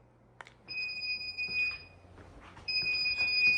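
A Ready-Lite self-diagnostic emergency light sounds its trouble alarm, a piercing high-pitched electronic tone in two sustained bursts, with faint handling noises between and around them.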